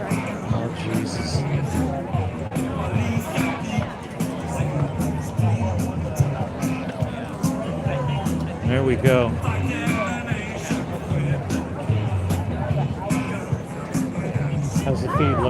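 Outdoor No Kings rally crowd in Wilkes-Barre, a steady babble of many voices with nearby people talking throughout.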